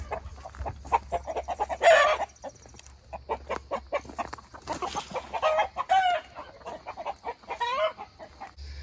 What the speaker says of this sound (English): Got a big rooster in here.